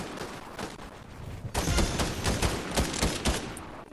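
Dense automatic gunfire in a battle-royale shooter video game, a steady stream of overlapping shots that grows louder and busier partway through, close and continuous.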